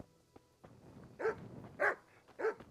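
A dog in the medieval video game Kingdom Come: Deliverance gives three loud, evenly spaced barks at close range, preceded by a few soft thuds and no talking.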